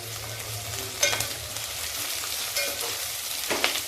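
Garlic cloves frying in a pan for a vatana (green pea) pulav, giving a steady crackling sizzle with a few clinks of stirring, and no voices.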